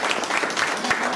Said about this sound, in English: give our candidates a great big round of applause for participation